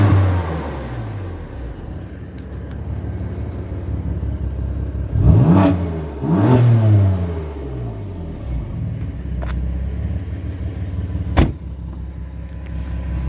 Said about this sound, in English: Just going to rev the engine a bit.